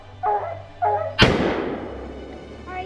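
A single loud, close gunshot fired at a bear, with a sharp crack and a long reverberating tail. It comes after two short bursts of a higher, dog-like sound.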